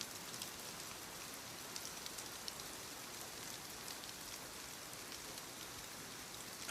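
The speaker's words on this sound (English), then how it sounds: "Outside, the rain thickened slightly. It made the roof sound closer." Steady rain patters on a greenhouse roof, a soft, even hiss of drops falling continuously with no break, close overhead and gentle.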